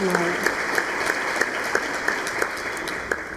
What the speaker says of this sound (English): We should give a huge round of applause to Kimberly for being so amazing and hosting